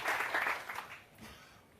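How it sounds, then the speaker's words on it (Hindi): A crowd at a panchayat committee meeting claps for a local ward member. The applause is faint and distant, loudest at the start and fading away within two seconds. "जोरदार ताली राम सुधीर शाह जी के लिए"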